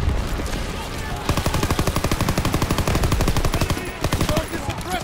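Gunfire in the video game Call of Duty WWII during a battle at a bridge with AA guns: a loud, rapid machine-gun burst runs steadily for several seconds, with scattered battle noise and shouting around it.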